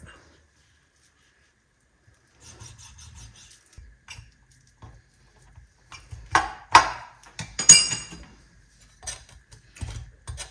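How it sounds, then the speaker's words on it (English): A knife scrapes and cuts along a whole chicken's bone, giving irregular small scratches and ticks that build into louder, denser scraping bursts near the end. "cut through it and scrape close to the edge of the bone"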